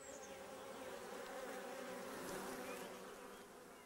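Honeybees buzz inside a hive, a dense, steady, faint hum of many wings close by with no other sounds.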